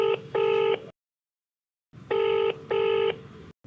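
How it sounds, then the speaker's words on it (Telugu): Keypad tones of a telephone dialing a call in a Telugu TV program studio, two paired bursts of steady beeps separated by a second of silence, clear and close with no talking. "ఒకసారి కాల్ చేస్తాను."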